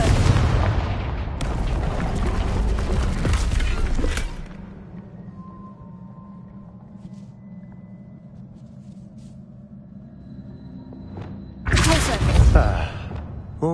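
A Confringo spell explodes in Hogwarts Legacy with a loud broadband blast that rumbles on for several seconds, fades into quiet ambience, then a second heavy burst erupts near the end; no talking.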